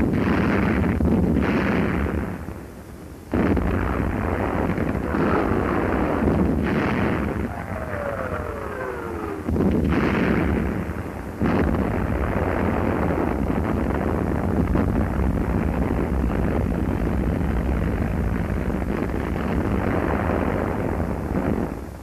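Heavy enemy artillery shells impacting during 1944 wartime fighting, a continuous loud rumbling barrage of blasts with bursts and brief dips, under a steady wind-like roar.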